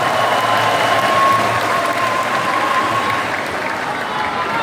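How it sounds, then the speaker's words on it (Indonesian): Loud, sustained applause from a large crowd at a national gathering of volunteers in Indonesia, steady dense clapping throughout with no pauses. "Tepuk tangan untuk para pejuang reformasi kita."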